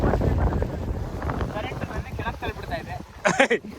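Strong wind over Kanva Reservoir in Karnataka buffets the microphone in a low, rough rumble, with indistinct voices partly heard through the gusts.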